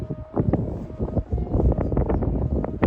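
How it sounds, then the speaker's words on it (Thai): Strong wind gusts buffet the microphone outdoors while an Isan kite flies. A steady, rumbling roar of wind noise holds throughout with fluttering surges and no clear speech. "ตอนนี้เจอลมแรงสักทีครับสะใจครับ"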